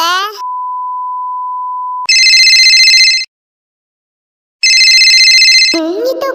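A mobile phone announces an incoming call: a steady electronic tone holds for about two seconds, then loud bursts of bright ringing come in two spells separated by silence, and a voice starts up at the very end.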